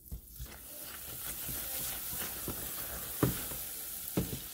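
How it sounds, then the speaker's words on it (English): Butter sizzles in a hot pan while making cardamom pistachio brittle with coriander and sesame seeds, a steady frying hiss with a few soft stirring knocks and no speech. "We're gonna put in some butter."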